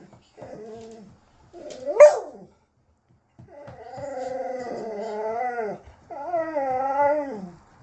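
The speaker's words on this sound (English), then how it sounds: "Stop barking." A dog gives several drawn-out barks and whining, howl-like yelps at close range, one sharp bark standing out loudest, with short pauses between the vocal bursts.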